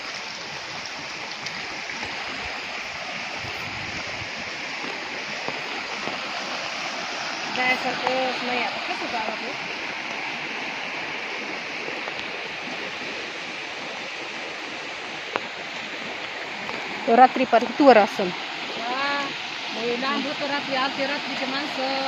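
Floodwater rushes around a village near a riverbank, a constant broad roar of moving water filling the background while people talk over it.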